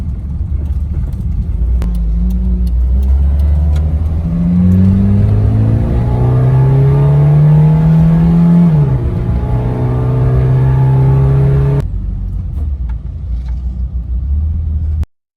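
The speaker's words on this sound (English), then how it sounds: "Blip the gas." A Toyota AE86 with a 4A-GE engine idles fast, then the throttle is blipped so the revs climb smoothly, hang briefly and drop back to a steady idle. The engine is close, loud and continuous, with no talking over it.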